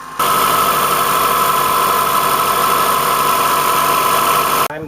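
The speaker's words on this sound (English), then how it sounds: "So we start the engine" A Honda Accord engine starts up during a coolant flush and settles into a loud, steady, close idle hum that holds constant before cutting off abruptly.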